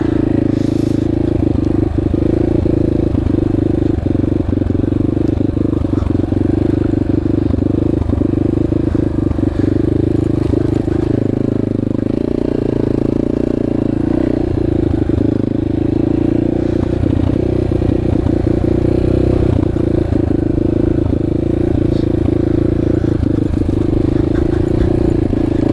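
A Yamaha XT250 dual-sport motorcycle rides an off-road enduro trail in Moab, Utah, its single-cylinder engine droning loud and steady close to the mic in second gear, with clatter from the rough terrain throughout.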